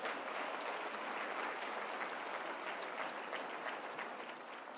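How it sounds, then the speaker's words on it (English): Conference audience at CPAC giving a sustained round of applause, a dense, even wash of many hands clapping at once that stays fairly level before easing slightly at the end. "Can we give them a round of applause,"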